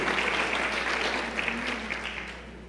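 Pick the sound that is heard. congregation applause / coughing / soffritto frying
congregation applause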